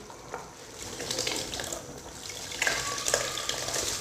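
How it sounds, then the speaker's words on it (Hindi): About a kilogram of rice is poured into boiling water with vegetables in a large cooking pot, giving a soft continuous bubbling and watery churning with slightly louder splashy stirring near the end. "अच्छी तरह चावलों को बॉयल हुए पानी में ऐड करना है।"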